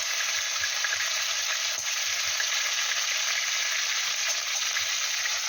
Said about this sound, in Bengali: কাঁকড়াগুলোকে প্রথমে ভেজে তুলে নেওয়া হচ্ছে।